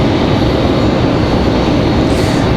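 A JetBlue airliner takes off from Raleigh-Durham airport in the dark, its engines a loud, close, continuous broadband roar with no break and no voices.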